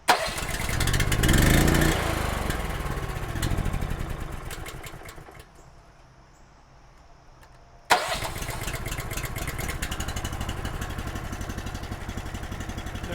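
A grapple trailer's hydraulic power pack motor, on full choke, cranks and fires loudly, labours a few seconds, briefly cuts out to near silence, then restarts and settles into a steady close idle; no talking.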